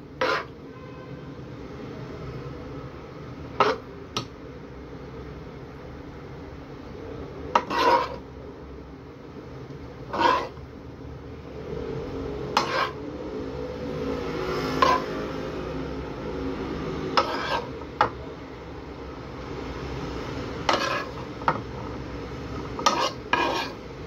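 Stuffing being spooned into partly fried zucchini boats, giving irregular clinks of a utensil against a dish and pan over a steady kitchen background, close and fairly loud with no talking.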